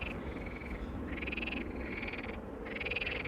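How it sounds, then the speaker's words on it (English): Frogs croak in the distance near Amsterdam Schiphol Airport, giving repeated rhythmic trilling calls that rise and fall over steady low background rumble, with no talking. "You can probably hear some frogs over in the distance."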